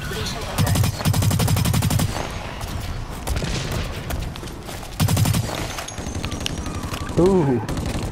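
Rapid bursts of automatic gunfire in the shooter game Blacklight: Retribution come in loud, dense volleys with short gaps, while a player talks over the action.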